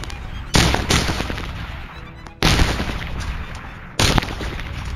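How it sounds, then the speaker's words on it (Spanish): Loud bursts of rapid gunfire, several sustained volleys separated by brief pauses, close and harsh. "Y después sonaron muchos disparos."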